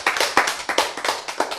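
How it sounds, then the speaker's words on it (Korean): Audience clapping at a lecture, a handful of sharp, close claps in a fairly even rhythm, about eight distinct hits that ring briefly in the room with no talking. "박수."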